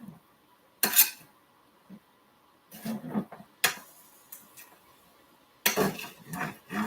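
Ratatouille vegetables stirred in a pan, with a few separate bursts of utensil scraping and clinking against cookware, loud at close range and separated by quiet pauses.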